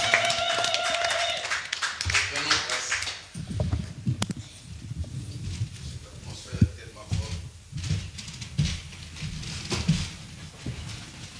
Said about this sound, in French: Je dis qu'on acclame le Seigneur.